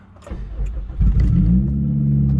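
A Honda car with a K24 engine swap and no exhaust cranks briefly and then fires up, settling into a loud, close, steady idle with a deep rumble and no talking.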